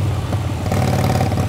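A Harley-Davidson Sportster 1200 cc custom chopper bobber engine rumbles loud and steady at close range, its deep throbbing roar rising slightly partway through. No voices are heard.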